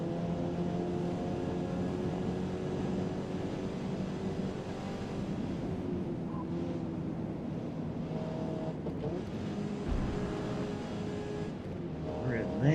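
A race car's engine drones steadily through night laps of the Nurburgring in a racing video game, a continuous loud hum with slowly shifting pitch as it accelerates and shifts, with someone talking over it.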